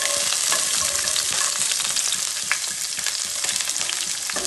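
Steady, loud frying sizzle in a hot pan of chopped shallots, green chillies and garlic for a spiny fish curry, dense crackling throughout with occasional stirring pops and no talking.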